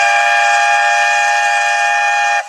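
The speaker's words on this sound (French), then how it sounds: "c'était le son du RERA qui vous amène en gare de la Défense" An RER A commuter train arriving at La Défense station, a loud sustained high tonal screech or whistle-like squeal that holds steady, then drops away abruptly near the end.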